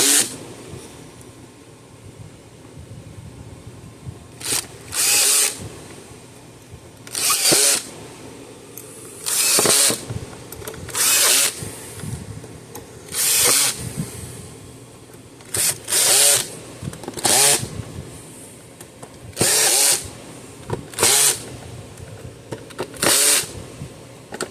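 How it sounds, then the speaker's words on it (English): Power drill driving screws back into a Gallagher Smart Scale 500 weigh scale case, in about ten short loud whirring bursts separated by brief pauses, close by. "let's start screwing this back together"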